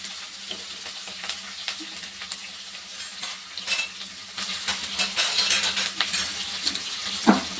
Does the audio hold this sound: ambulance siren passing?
no